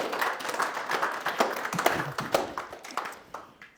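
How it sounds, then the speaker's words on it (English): Audience applause at a church winter retreat session, scattered clapping with sharp hand claps over a steady crowd wash, moderately loud and continuing throughout, thinning slightly toward the end. "let's clap it up for Pastor Jason one more time"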